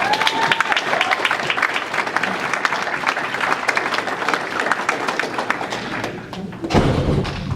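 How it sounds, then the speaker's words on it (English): Group applause from an audience, dense steady clapping with some thumps, fading near the end before a louder knock. "I just want to applaud you all."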